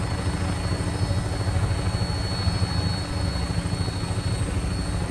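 A vertibird helicopter flies in Fallout 4, its loud, steady rotor drone and low engine rumble running continuously and close up, with no talk over it.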